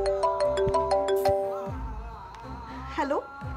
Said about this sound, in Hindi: मेरे पति का फोन आ रहा है